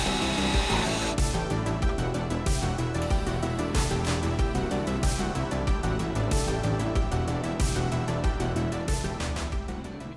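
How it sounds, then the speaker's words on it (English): A small portable Porter band saw cuts through steel header pipe for a Volvo 850 estate. It makes a loud, steady grinding buzz, beating in a fast regular rhythm as the blade works through the metal. "freehand the line and then cut it on their little porter band"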